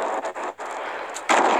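A guided missile launcher fires in Fortnite, giving a loud, close burst of rushing noise with a few short breaks and a sharper blast near the end. No one speaks.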